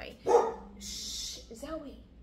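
A dog barks indoors in a home, a short sharp bark up close followed by a whine and a yip, with a hiss of noise between.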